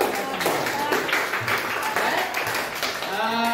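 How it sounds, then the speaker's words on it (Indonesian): A classroom audience claps in a burst of applause lasting a few seconds, with voices mixed in underneath. "Tepuk tangan dong"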